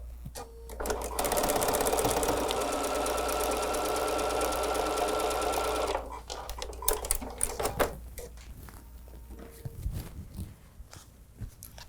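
A sewing machine stitches a quilt pinwheel block for a Father Christmas patchwork quilt, running in a steady, fast whirring rattle for several seconds, then stopping, followed by soft handling clicks and fabric rustling.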